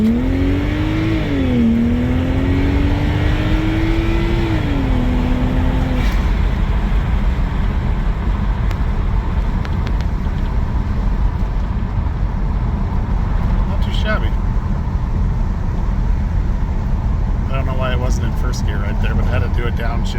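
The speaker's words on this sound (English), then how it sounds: "intakes sound great. It still has stock diverter valves, but you can hear them working." A BMW 135i with aftermarket intakes and stock diverter valves revs loudly up close, its engine note rising and falling over the first few seconds, then settling into a steady heavy drone with brief valve whooshes near the end.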